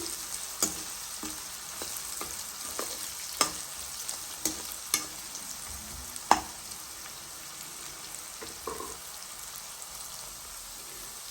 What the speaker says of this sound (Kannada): ಆ ಕ್ಯಾಪ್ಸಿಕಮ್ ಏನಿದೆ ಅಲ್ಲ ಅದು ಸ್ವಲ್ಪ ಮೆತ್ತಗಾಗಬೇಕು ಆದ್ರೂ ಆಯಿಲಲ್ಲಿ ಫ್ರೈ ಮಾಡ್ಕೋಬೇಕಾಗುತ್ತೆ